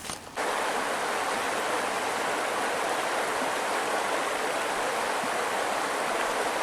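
The Bitterroot River flowing near Sleeping Child Creek, a loud, continuous rushing wash of water heard up close with no voices.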